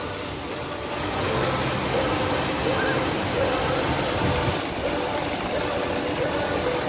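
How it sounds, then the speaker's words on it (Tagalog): Water pours steadily from a fountain at the Hong Kong Disneyland entrance, a continuous loud rushing splash filling the whole stretch with no clear speech. "Nagbubuhos ng tubig."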